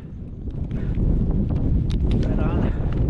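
Strong wind buffets the microphone on the cold summit of Mount Rhondda above the Wapta Icefield, a steady loud low roar throughout with a few faint higher scrapes and rustles.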